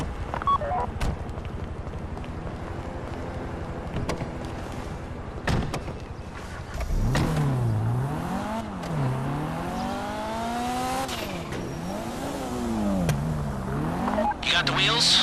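Getaway car in GTA Online driving on the way to a bank heist, engine revving up and down through gear changes with rising and falling pitch, loud and close, after a door thud, with game voices over it.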